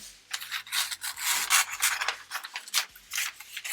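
Scissors cut apart paper sewing pattern pieces, making close, rhythmic rasping snips and rustles of paper. There is a quick series of strokes with brief pauses, and no speech.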